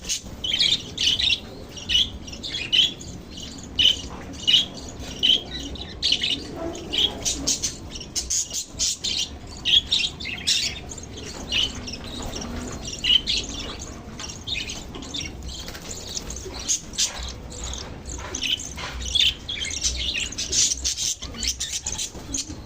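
Pet parakeets and lovebirds chirping and squawking in short, repeated bursts throughout, close by and fairly loud, with light scratching and patter between calls.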